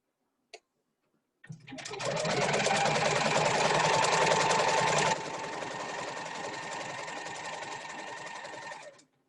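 A sewing machine runs steadily while stitching a rolled hem on a shawl, a loud, close, continuous whir that eases slightly partway through and then stops, following a single click.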